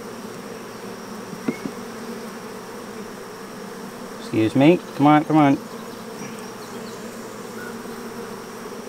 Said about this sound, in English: All right, so there's a bunch of bees.